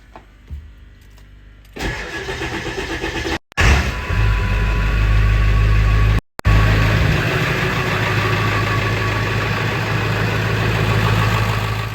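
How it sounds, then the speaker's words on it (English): Ford 7.3 diesel truck engine cranking and firing up after a glow plug installation, then settling into a loud, steady rumbling idle with two brief dropouts, no talking. "Truck fired right up."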